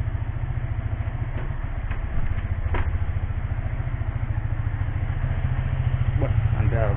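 A Yamaha V-ixion motorcycle idles steadily up close while warming up in a workshop, a low, even engine pulse running throughout with a few faint clicks over it.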